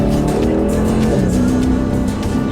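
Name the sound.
503 hp car accelerating with tire spin in first gear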